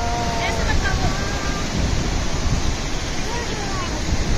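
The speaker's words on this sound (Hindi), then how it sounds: "ये मनेरी डैम का ये वाटरफॉल" Maneri Dam waterfall on the Bhagirathi river near Uttarkashi, a steady, loud roar of rushing, falling water filling the whole clip with constant broadband wash and spray, no pauses.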